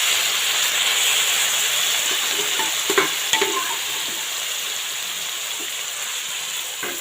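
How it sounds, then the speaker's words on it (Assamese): Food sizzles steadily in a hot ghee-coated pan over low flame while a utensil scrapes and stirs carrot halwa, with a few sharp clinks of metal against the pan. "এয়া মই জুই কম দি এনেকৈ লৰাইছোঁ"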